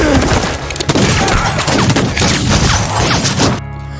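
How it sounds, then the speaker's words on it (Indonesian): Gunfire in a western film shootout: a rapid, loud burst of overlapping shots and crashes mixed with film score, ending abruptly into quieter sound. "baku tembak pun terjadi"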